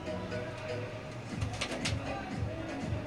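Desi pigeons in a loft coo in a repeated low rhythm at moderate distance, with a few brighter chirps and steady background noise.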